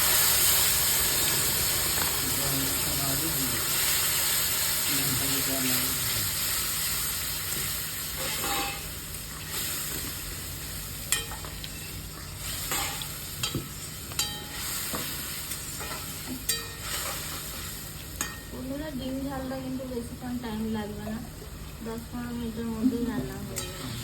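Tomato paste sizzles in hot oil with dried red chillies and whole cumin for a fish roe curry, a steady close hiss that fades gradually, with scattered stirring clicks and a voice talking intermittently.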